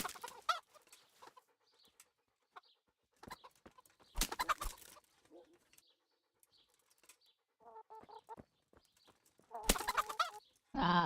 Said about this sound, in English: Oh, here's some chickens.